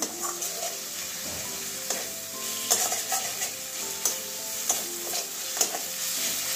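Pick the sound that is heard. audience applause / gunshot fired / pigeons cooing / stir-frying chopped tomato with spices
stir-frying chopped tomato with spices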